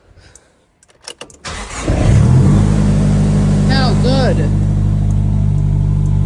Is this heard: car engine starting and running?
yes